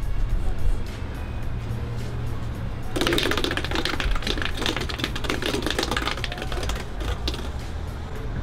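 A Wheel of Fortune prize wheel on a Los Angeles street spins, its pointer ticking rapidly against the pegs over steady traffic rumble, with voices in the background.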